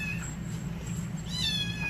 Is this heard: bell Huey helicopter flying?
no